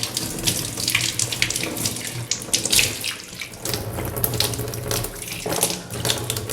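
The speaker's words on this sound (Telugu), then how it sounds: "ఇది ఫ్రెష్ వాటర్ ట్యాప్ ఇదేమో గ్రౌండ్ వాటర్ ట్యాప్" Water runs steadily from a kitchen tap into a sink, a continuous splashing stream with no voices.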